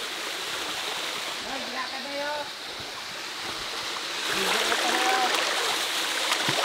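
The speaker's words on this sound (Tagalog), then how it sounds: "So, may falls pala dito. Falls nga yan." A waterfall at a mountain spring pours in a steady, close rush of water, with voices talking briefly over the constant roar.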